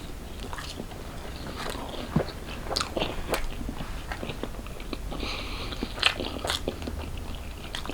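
Bites and crunchy chewing into a fried dumpling from Chinese food, close-miked in an ASMR style, with several sharp crunches and softer mastication throughout.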